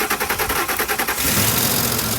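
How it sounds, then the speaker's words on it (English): A 2004-2008 Ford F-150 pickup with a 4.6L or 5.4L V8 cranks in a quick rhythmic churn, then catches and settles into a loud, steady running roar just after its alternator was replaced. "look, the truck is running"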